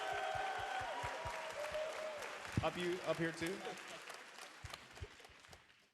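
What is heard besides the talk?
audience applause at Nintendo E3 tournament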